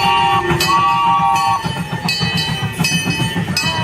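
The historic Irvine Park Railroad train runs past with a loud, close, low rhythmic chugging and clatter, layered with sustained whistle-like tones and a few sharp metallic accents.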